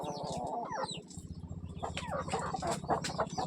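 A group of chickens sheltering in the shade on a hot afternoon clucks steadily nearby, with a low background hum and no speech.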